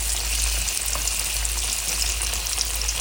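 Sliced sweet potato yams fry in oil in a pan, a loud, continuous crackling sizzle with a low hum underneath and no talking.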